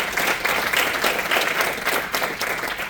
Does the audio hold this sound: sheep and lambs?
no